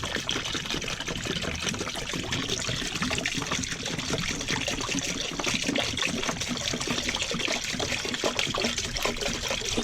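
Liquid is poured into an RV black tank as a soft, continuous trickle and gurgle, steady and fairly quiet from start to finish.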